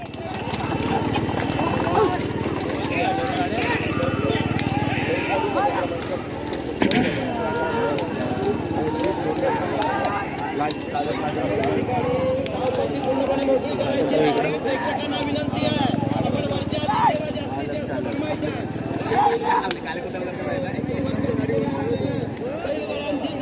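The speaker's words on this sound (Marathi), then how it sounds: "झेंड्याला वळसा मारून बैलगाड्या आलेल्या आहेत." Bullock carts race on Kamat beach, hooves pounding and carts rumbling in a fast, continuous clatter amid a shouting crowd, with a commentator talking loudly over the race.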